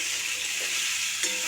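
Boiled new potatoes fry with spices in a pan as they are stirred, giving a steady loud sizzle with faint scraping strokes and no talk.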